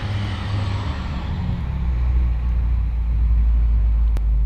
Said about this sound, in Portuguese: Todos os caminhões do mundo resolveram passar hoje.